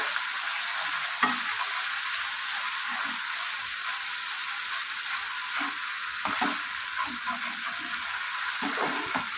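Chhana is stir-fried in a pan after a splash of water, giving a dense, even hiss of frying with soft repeated scrapes of a spatula, close and steady without speech.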